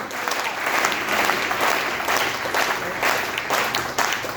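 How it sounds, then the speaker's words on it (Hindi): Sustained audience applause at a Hindi poetry gathering (kavi sammelan), a dense, steady wash of many hands clapping that stays loud and even throughout without a break. "एक बार जोर से तालियां बजाओ।"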